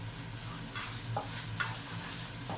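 Bacon frying in a pan for pasta with peas, a quiet, steady sizzle with soft crackles and a few faint pops throughout.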